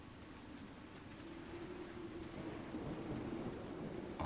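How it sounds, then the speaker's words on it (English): Steady rainfall with a low rolling rumble of thunder in Crestwood in Dragon Age: Inquisition, a faint, continuous wash of rain that swells slightly as it goes. "Oh, it's raining again."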